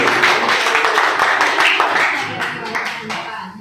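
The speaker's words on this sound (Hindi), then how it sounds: "जोरदार तालियां दीजिए।" An audience at a school Independence Day program claps loudly and continuously, a dense, bright wash of applause close by that slowly eases off toward the end, with talk faintly mixed in.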